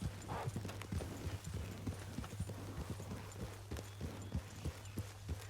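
Horse hooves clip-clopping at a steady walking rhythm in the video game Red Dead Redemption while the rider moves along, close and moderately faint over a constant low hum.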